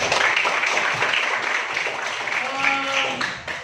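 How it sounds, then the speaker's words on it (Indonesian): Classroom applause for a student group after their presentation, a steady wash of clapping from the seated class that runs the whole time, with voices talking over it and a brief tonal sound near the end. "tepuk tangan untuk kelompok"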